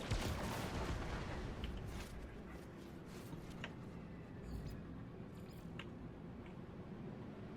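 Spaceship weapons firing in the video game No Man's Sky: a loud, steady roar of rapid blasts with sharp bursts cutting through at intervals.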